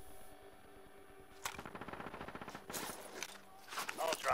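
Video game gunfire as a player comes under attack, quiet at first, then rapid automatic bursts of rattling shots followed by a few louder sharp reports near the end.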